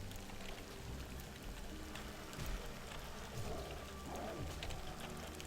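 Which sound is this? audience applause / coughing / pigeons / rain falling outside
rain falling outside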